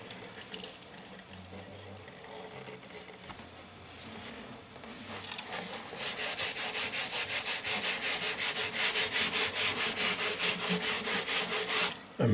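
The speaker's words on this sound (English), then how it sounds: "I'm going to do a light sanding" A mandolin's finish being lightly sanded with 600 grit sandpaper, starting as soft scattered rubbing and then turning into loud, steady, rapid back-and-forth strokes near the end.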